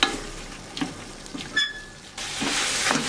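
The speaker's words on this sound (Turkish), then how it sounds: "Karıştırıyorum." Chicken is stirred and sautéed in a hot pan: soft scraping strokes over a low, steady sizzle that swells louder toward the end, close by.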